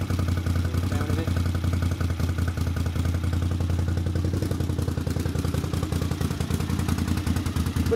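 A Honda CX 500 motorcycle engine, started for only the second time in 30 years, runs without choke at a fairly low, steady speed, with a close, even pulsing putter and light mechanical clatter.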